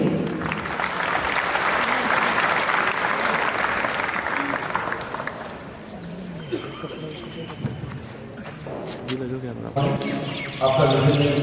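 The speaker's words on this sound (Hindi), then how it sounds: "प्लीज जोरदार तालियां अनिल जी के लिए" An outdoor crowd at a border ceremony applauds loudly for several seconds before the clapping thins out, while pigeons coo nearby and a voice begins speaking.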